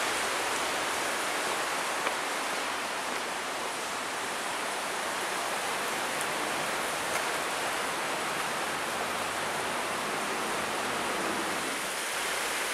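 A stream runs between stones along a ravine promenade in Cuernavaca, a continuous even rush of water with no pauses, steady and fairly close throughout.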